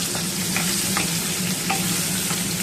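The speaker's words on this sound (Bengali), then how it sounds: "সেই আলুগুলোকে একটু ভেজে নেবো লাল লাল করে" Boiled potatoes fry in a pan, tossed for browning while making lentil fritters: a steady close sizzle runs throughout, with several light stirring scrapes breaking through at intervals and no voices.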